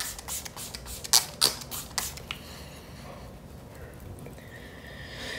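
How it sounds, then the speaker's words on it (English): A few quick bursts of drugstore setting spray misted over a made-up face, short hissy puffs clustered in the first two seconds at close range, followed by quiet room tone. "I'm gonna go in with my setting spray"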